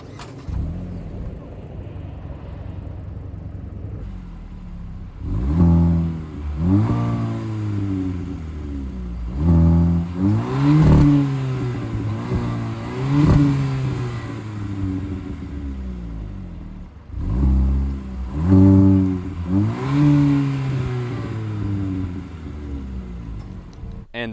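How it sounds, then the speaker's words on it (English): The turbo engine of a 2025 Kia K4 GT-Line starts, and the exhaust revs in several bursts that rise and fall over a low idling drone, heard close and clear with no talking. "let's start it up, take a listen to the exhaust"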